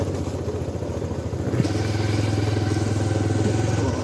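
A commuter motorcycle rides along a rough village road, its engine holding a steady mid-pitched drone with rattling clatter from the bumpy surface. The engine note steps up slightly partway through and then runs on continuously, close and fairly loud.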